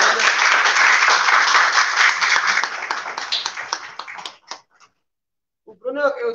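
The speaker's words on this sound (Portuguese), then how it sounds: "Aplausos para Bruno Viana" Audience applause at the Polo Multiartes 2022 award ceremony in a library, steady clapping that fades out after about four seconds, followed by a brief silence and then a voice speaking.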